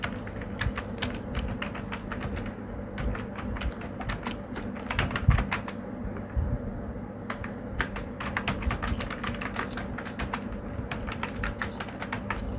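Rapid keystrokes on a computer keyboard, close and clear, coming in irregular bursts and short runs with brief pauses, over a faint steady room hum.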